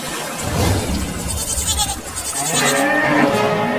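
A goat bleats in village flood water, several wavering nasal cries close by over a swirling, rushing water background.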